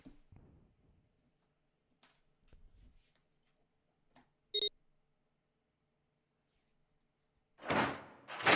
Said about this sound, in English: The door opened.